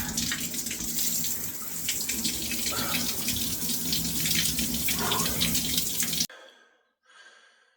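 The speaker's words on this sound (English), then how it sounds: "Anyways, gonna finish the shower." Cold shower water running hard and close, a dense hissing spray with splatter lasting about six seconds before it cuts off abruptly, followed by a few faint drips and a quiet breath.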